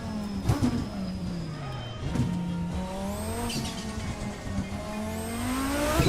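A race car at the Detroit street circuit roars through a tunnel, its engine note echoing and shifting pitch with gear changes, with a brief tire squeal, loud and close throughout.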